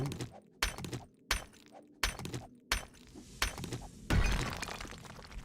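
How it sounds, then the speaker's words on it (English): Repeated heavy strikes smashing a boulder in the survival game 7 Days to Die, about seven evenly spaced cracking thuds, ending in a louder crumbling break that trails off. "Smashing this boulder down."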